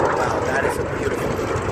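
An F-86 Sabre jet flies at the Chino air show, its broad engine roar filling the air at a steady, loud level while a voice talks over it.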